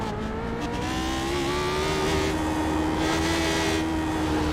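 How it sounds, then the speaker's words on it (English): A Lotus 79 race car engine drones loudly with steady pitch shifts on the Belle Isle Detroit circuit, overlaid by a hissing, broadband roar of tires on the track. "I'm hearing a lot of wheel noise, a lot of tire noise"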